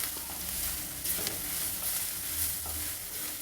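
A betel leaf chitranna mixture of rice and pre-roasted ingredients sizzles steadily in a hot pan, a constant close frying hiss with faint stirring scrapes and no voices.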